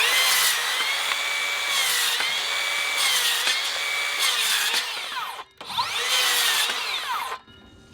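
A cordless circular saw rips through a 2x4 with a loud, steady whine that holds for several seconds, drops out briefly, then surges again for a second cut before stopping.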